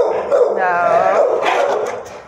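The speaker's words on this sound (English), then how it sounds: "He growls, but he wants to play." A dog lets out a short run of growling, whining barks, loud and close, with rising and falling tones over about two seconds.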